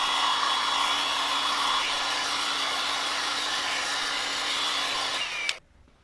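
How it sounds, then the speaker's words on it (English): A heat gun blows with a loud, steady airy roar and a faint high whine for several seconds, then cuts off abruptly near the end. "It's just a heat gun."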